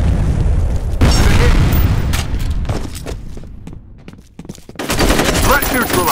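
A grenade blast and rapid gunfire in the F.E.A.R. Combat multiplayer game on the Docks map: loud booming bursts and machine-gun fire at the start, a brief quieter lull, then another heavy volley of shots.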